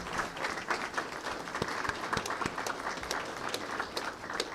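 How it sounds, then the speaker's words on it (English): An audience at a college football coach's introductory press conference gives a round of applause, steady clapping from a modest crowd in a room, even and moderately loud throughout. "So how about a round of applause, Board, Miss Pell?"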